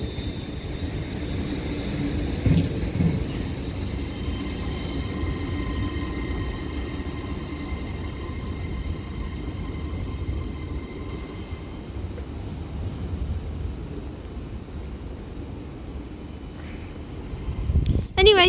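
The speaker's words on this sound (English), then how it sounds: "that Transpennine 802 departs Liverpool Lime Street now, the 1454 service to Hull" A TransPennine Class 802 train departs Liverpool Lime Street station with a steady, continuous rumble and engine hum that lasts throughout, ending with a brief metallic squeal.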